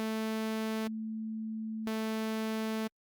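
A steady pure 220 Hz sine tone hums low and constant, joined twice by a bright buzzy harmonic-rich 220 Hz sawtooth tone that switches on abruptly and cuts off, then everything stops.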